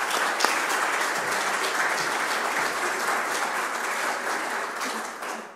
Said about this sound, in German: Und das ist ein Beifall wert.